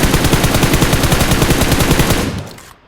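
Rapid, sustained gunfire crackles loud and close in a dense stream of shots for over two seconds, then cuts off and fades into quiet.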